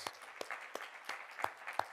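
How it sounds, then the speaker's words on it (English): Audience at a Sunday devotional program giving a round of applause, faint, scattered claps from a distant crowd, a handful of louder individual claps standing out. "Please give her a huge round of applause"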